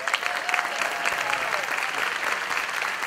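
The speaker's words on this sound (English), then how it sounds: "We're going to give them a big old round of applause today" An audience at a breakfast event gives a warm round of applause for a high school football team, the Red Devils, steady dense clapping throughout with a few voices faintly audible underneath.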